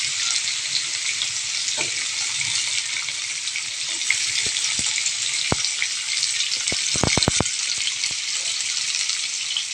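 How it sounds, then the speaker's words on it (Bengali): Diced potato, pointed gourd and drumstick pieces fry in a pan, a steady broad sizzle throughout with a few sharp clicks of stirring near the end; no talking. "সমস্তটা দিয়ে এইভাবে ভালো করে ফ্রাই করে নেব।"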